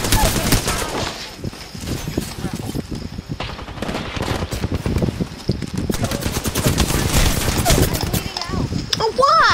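Automatic weapon fire in Apex Legends crackles in rapid bursts, loud and close, with scattered shots and game voice lines over the gunfire.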